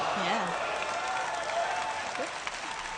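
Crowd at a powerlifting competition, an IPF men's 83 kg classic event, applauding and cheering steadily throughout, with a commentator talking over it.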